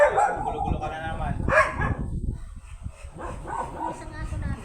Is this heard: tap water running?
no